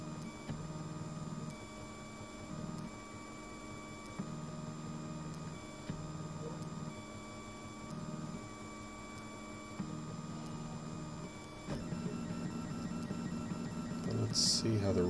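A Printrbot Simple 3D printer at work on its first print, stepper motors whirring in short tonal bursts over a steady hum, with a brief louder shift of movement near the end.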